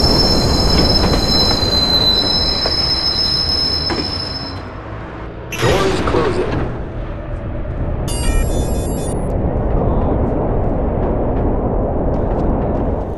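Train pulling into a station in the video game Watch Dogs, a loud steady rumble with sharp high-pitched wheel squeals, a sudden burst of noise midway and a brief electronic tone afterward.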